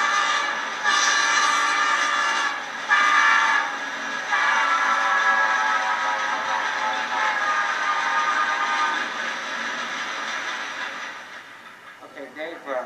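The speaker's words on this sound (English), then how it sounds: "They blow their horn to warn you that they're coming." A long, loud train horn blast holds steady for several seconds, with a couple of brief breaks near the start and a gradual fade at the end.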